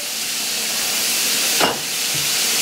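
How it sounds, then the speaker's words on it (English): Half a stick of butter melts in a pot over a fire, making a steady, loud hissing sizzle with one brief sharper burst near the middle. "I'm going to put a half a stick of butter in here."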